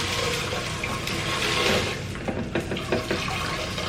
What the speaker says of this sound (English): just to soften the blow of the rocks I'm about to dump in here